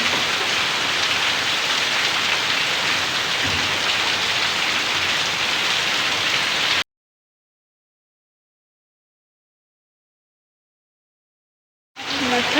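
Rain pours steadily during a Haryali Teej gathering, a dense close hiss that cuts out into silence partway through and then resumes, with no voices heard.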